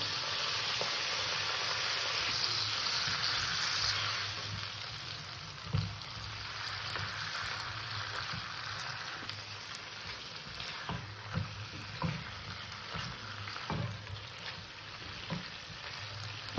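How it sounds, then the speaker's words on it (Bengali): Mutton sizzling steadily in a hot pan with whisked yogurt, loud and close, with intermittent scraping stir strokes as it is fried down for mutton pulao. "এবার মাংসটাকে আমি সুন্দর করে কষে নেব ফেটিয়ে রাখা টক দিয়ে"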